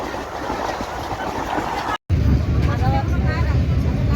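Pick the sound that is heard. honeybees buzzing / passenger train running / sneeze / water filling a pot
passenger train running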